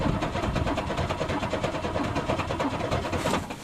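Cold racing car engine being cranked to start, a steady loud mechanical churning that runs continuously for several seconds before easing off at the end.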